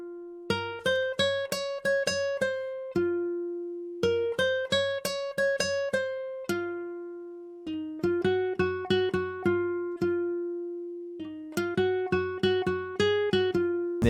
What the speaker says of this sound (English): Without any effects, the guitar sounds like this.